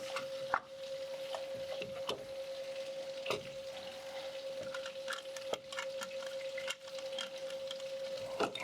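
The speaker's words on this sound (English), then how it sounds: "It's pouring rain outside, and our our roof drain runs straight through our shop," Heavy rain pours down in a woodworking shop where a roof drain runs straight through, giving a steady, dense hiss of rushing water with a faint constant hum and occasional soft knocks.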